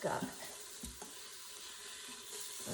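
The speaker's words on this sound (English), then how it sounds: "So it's already sizzling away here." Soft, steady sizzling hiss of food frying in a pan, quiet and continuous with a couple of faint clicks.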